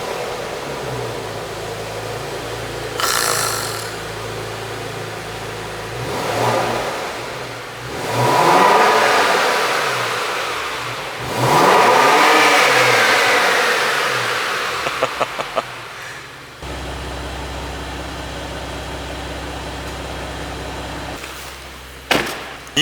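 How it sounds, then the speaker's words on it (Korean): Porsche Macan GTS with sport exhaust starting up, a loud close engine roar and repeated revs that swell and fade, then settle into a steady idle rumble. "이 엄청난 배기 사운드를 들을 수 있는데요"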